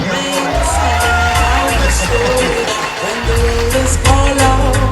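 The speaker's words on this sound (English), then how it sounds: "Clap her up, man. Clap her up." Audience cheering, whooping and clapping at a foundation award ceremony honoring a woman, a loud continuous crowd roar with music or amplified sound underneath.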